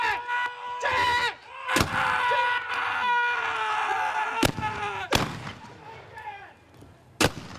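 Sharp, loud musket and cannon blasts crack out at intervals during a Civil War battle reenactment, sounding over continuous shouting and screaming voices of the combatants.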